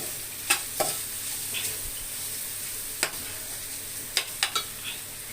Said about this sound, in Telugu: బీట్రూట్ తురుము కూడా వేసుకుని వేయించుకుందాం.